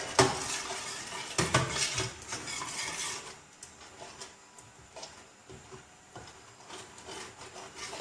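A utensil scrapes and knocks around a pot as sauce with grated onion, garlic and seasoning is stirred over a low flame, with uneven clinks and rubbing strokes, louder early and quieter later.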